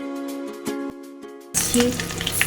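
Green chillies and curry leaves land in hot oil and start an abrupt, loud, crackling sizzle that keeps going, following a tonal hum with soft knocks. No one speaks.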